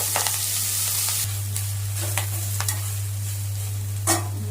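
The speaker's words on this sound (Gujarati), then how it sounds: "અને હવે મેથી નાખી દઈશું એની અંદર આપણે" Fenugreek leaves sizzle steadily in hot oil tempered with cumin, asafoetida and turmeric, with a low hum underneath and several sharp scraping stirs of a spoon in the pan, close and alone.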